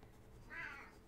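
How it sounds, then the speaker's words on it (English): A house cat gives a single short meow, faint and alone in a quiet room with no talking. "Noisy kitty."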